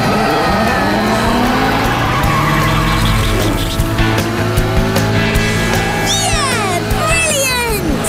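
A cartoon race car doing stunts, its engine droning loudly throughout and overlaid near the end by a burst of sharp, wavering tyre squeals, all close and with no speech.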